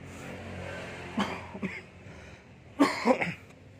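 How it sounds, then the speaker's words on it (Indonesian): A smoker coughs a few times, sharp separate bursts close to the microphone, with a quiet gap between the first pair and a louder final cluster, over a faint background hum. "batuk, kebanyakan ngerokok teman-teman"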